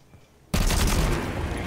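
A sudden burst of rapid video game gunfire erupts after a brief quiet moment, loud and continuous like automatic weapons fire.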